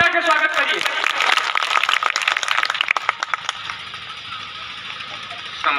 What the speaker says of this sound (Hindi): जोरदार ताली बजा के स्वागत करिए